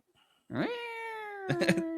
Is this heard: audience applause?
no